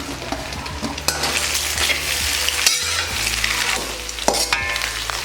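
Onion and capsicum stir-fried in a pan for street-style chicken fried rice, a loud continuous sizzle broken by repeated scraping and clattering stirs, close up with no voices.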